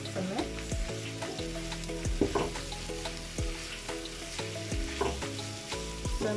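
Potato samosa filling sizzles in a pan while a spoon scrapes and stirs it in repeated strokes, close and steady over a low hum, with no talking.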